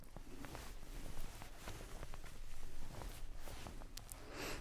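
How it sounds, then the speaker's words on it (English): Shirt fabric rustling close to an ultra-sensitive condenser microphone in a quiet room, soft continuous brushing and scratching with small crisp ticks, faint and alone. "That's the sound of my shirt"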